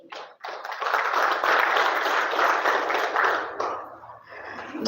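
An audience at a hotel association workshop on digital marketing and Tripadvisor bursts into sustained applause, a dense wash of clapping that swells quickly, holds for several seconds, then tapers off.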